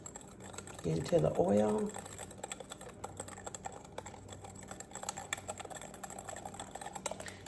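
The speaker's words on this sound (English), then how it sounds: "I'm just going to whisk that a little bit" A person speaks briefly over rapid, light clicking and tapping of a whisk stirring ingredients into oil in a bowl, a close, continuous patter that carries on after the voice stops.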